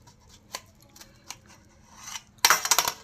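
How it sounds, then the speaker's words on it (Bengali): A knife halves a stuffed ash gourd chop with potato filling. Scattered light taps and clicks come first, then a short, close burst of crisp, scraping cuts near the end, quiet overall with no talking. "এবার আমি এই ছুরি দিয়ে এইটাকে হাফ করে আমি কেটে নেব"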